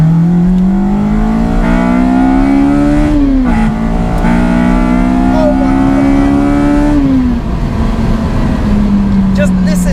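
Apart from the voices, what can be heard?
Honda EP3 engine intake and Toda exhaust revving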